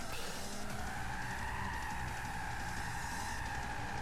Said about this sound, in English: this car has horrible tyre squeal